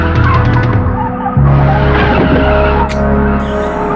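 Tires skid and squeal loudly during a car chase in the film Final Justice, on a wide road in Malta, with an engine roaring close underneath.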